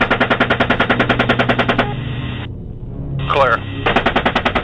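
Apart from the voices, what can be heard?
machine gun fire from attack helicopter in war footage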